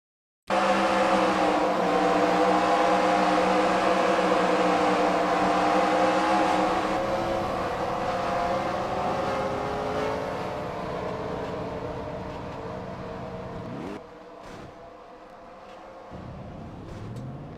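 The stock car engine of the 8 car roars steadily from onboard on the Bristol dirt track in a racing game, with a loud sustained drone that slowly fades before the revs dip and recover near the end.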